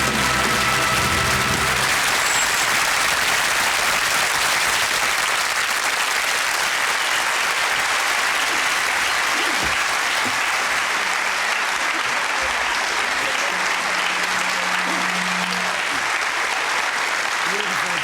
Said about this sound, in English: Special applause, of course, for Joe Loss